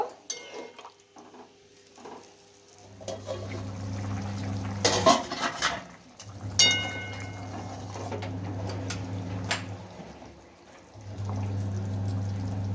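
Water is poured into a pot of cauliflower and potato cooking on the stove, with splashy pours and stirring clatter over a steady low hum in a home kitchen.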